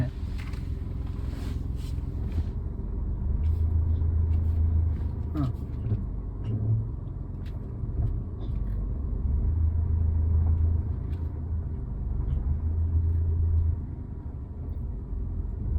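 A car rolling slowly on a road in Pampady, Kottayam, its low engine rumble rising and easing in waves as it eases over a speed hump, fairly close, with light talk now and then.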